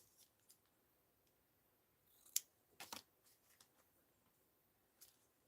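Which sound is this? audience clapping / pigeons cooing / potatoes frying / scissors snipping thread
scissors snipping thread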